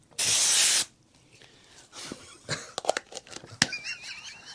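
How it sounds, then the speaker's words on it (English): A loud burst of permanent sheep-marking aerosol spray hisses for nearly a second, then quiet shuffling and small handling clicks follow. "This is permanent sheep spray."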